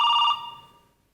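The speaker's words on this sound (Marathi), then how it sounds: "फोन वाचतोय." A telephone rings with a single short electronic trill that fades out within a second, set in a Marathi comedy sketch.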